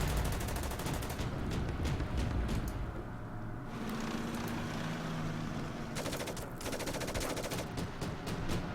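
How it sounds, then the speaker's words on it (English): Rapid gunfire rattles in bursts against an AA gun in the war strategy game Order of Battle, dense repeated shots with a brief lull midway before the firing resumes. "I guess we can take some shots at that AA gun there."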